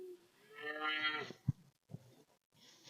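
A cow at a cattle clinic gives one drawn-out, rising moo close by, followed by a couple of dull knocks and thumps in an otherwise quiet shed.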